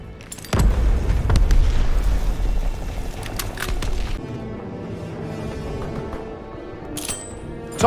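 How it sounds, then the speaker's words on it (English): A grenade blast in the Call of Duty WW2 video game, a loud, close boom with a rumbling tail that slowly fades into quieter battle noise. "Throw the grenade!"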